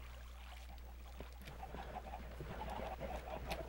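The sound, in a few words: chickens clucking in Minecraft video game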